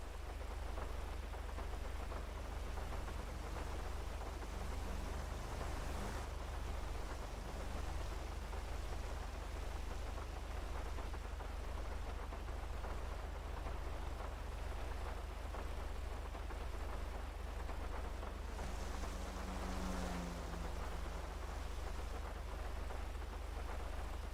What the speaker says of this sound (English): I guess now that I'm looking a little bit closer, yeah, I can see the rain.